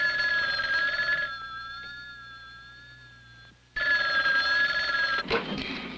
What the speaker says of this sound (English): I am picturing someone picking up a phone and dialing it.